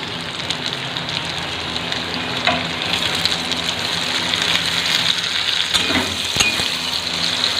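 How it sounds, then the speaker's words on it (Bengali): Tomatoes sizzle and fry with onions in a hot pan, a steady broadband crackle that stays loud and close throughout, with a few stirring scrapes near the end and no one talking. "টমেটোটা পেঁয়াজের সঙ্গে একটু ভালো করে ভেজে নিই।"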